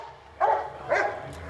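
A Yakima Police Department narcotics or patrol dog barks twice during training scenarios, two sharp, close barks about half a second apart over a quiet background.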